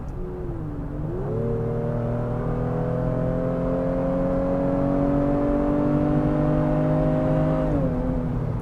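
A Honda Pilot's J-series V6 engine pulls from a low idle-like hum into a smooth, steady climb in pitch, holding a strong even drone before easing back, heard from inside the cabin without talking.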